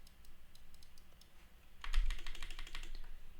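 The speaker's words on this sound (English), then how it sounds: "We're gonna type." Computer keyboard typing: light, scattered key clicks at first, then a faster, louder burst of rapid keystrokes close by, with no talking.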